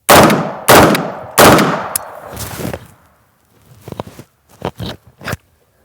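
Sharp gunshots hit 3D shooting targets, three loud reports in quick succession followed by a few lighter, more scattered shots, with no talking.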